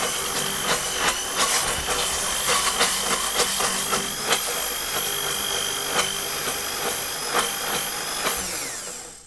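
A Bamix hand blender whirs steadily through Yorkshire pudding batter in a bowl, a continuous close motor drone with faint clicks and scrapes, winding down at the end.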